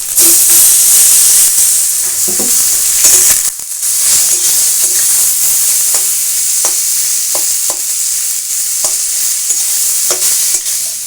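Mashed jackfruit frying with onions in hot oil, a loud steady sizzle and hiss, close up, broken by a brief pause and by occasional light scraping of a stirring utensil.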